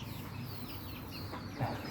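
Young roosters, four or five birds hatched in September on a Thai farm, cluck softly at a distance over a steady rustling background noise.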